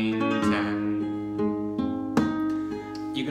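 Flamenco guitar plays a short soleá falseta, single notes broken by several loud, bright strummed rolls, close and alone.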